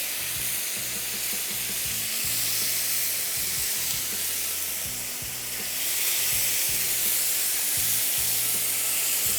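Broth is poured into a pan of sizzling baked Turkish kabab, giving a loud, steady frying hiss that swells and dips slightly over a rhythmic musical backing, with no talking.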